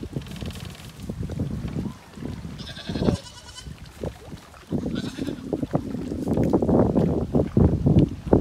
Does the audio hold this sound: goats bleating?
yes